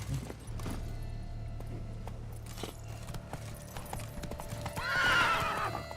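A horse in The Witcher 3 video game: hooves clip-clop in a quick, steady rhythm, then a loud neigh rises near the end, close and clear.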